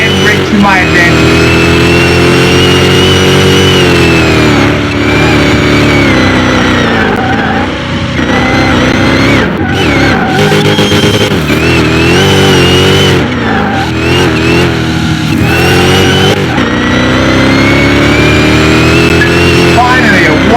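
A 2,400 hp Hellhawk SUV engine roars loud and close for a sustained run, its pitch rising and falling through hard accelerations and shifts with brief dips between pulls.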